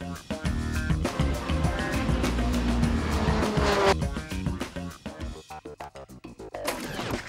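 Jean-Eric Vergne takes a race car flat out through a corner at the Magny-Cours circuit. The engine roars and the tires squeal at close range, and people talk over the car noise.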